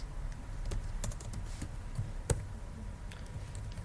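Code being typed on a computer keyboard, a quiet steady stream of soft key clicks with one sharper tap, close and alone over faint room hum.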